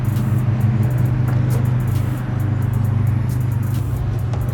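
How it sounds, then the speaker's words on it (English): A Mazda 3 fitted with an aftermarket fuel pump idles close by, giving a steady, loud low rumble that holds even throughout, with faint ticking and clicks above it. "I'm gonna leave the car running, actually."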